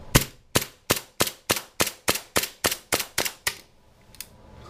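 Automatic toy gun shooting pellets, about a dozen sharp, loud snaps fired in quick, even succession, then a pause and one last faint shot, with no voices.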